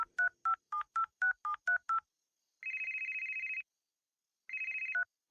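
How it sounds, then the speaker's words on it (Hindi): A landline telephone being dialed at home: eight quick touch-tone beeps in an even rhythm, then two long ringback tones on the line, clear and close with no talk. "फिर मैंने अपने घर फोन किया।"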